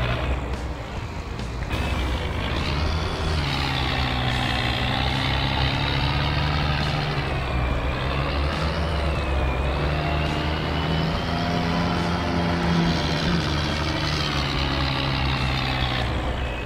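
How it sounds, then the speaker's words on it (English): A tractor driving in the Farming Simulator 22 video game, a continuous heavy diesel engine drone with shifting whine as it moves, steady and loud throughout, no talk. "I am very happy sir to play with my Traktor and my Mr. Cross."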